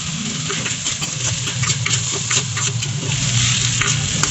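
Tomatoes, pork and vegetables stirred together in a pan for pinakbet, with a steady sizzle of frying under continuous scraping and stirring, close and fairly loud throughout.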